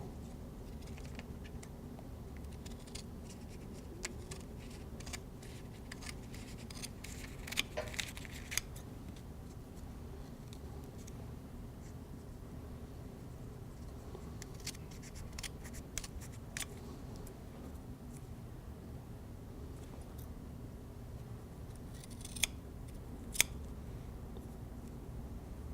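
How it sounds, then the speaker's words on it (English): Scissors cutting composite repair material around a template for a Hartzell Kevlar propeller tip repair, with faint scattered snips and crinkles in a quiet room and a low steady background hum. "So you just lay your template over the top of the repair material and cut it out."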